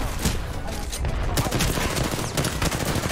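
Gunfire in an Apex Legends match: dense, rapid bursts of shots crackle continuously through the few seconds, loud and busy with overlapping fire.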